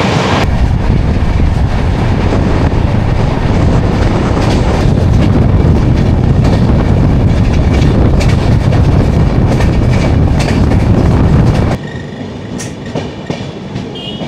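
A train runs steadily on the rails on a cold morning approaching Hathras, a loud continuous rumble with rattling clickety-clack throughout, ending abruptly as the noise drops to a quieter hum.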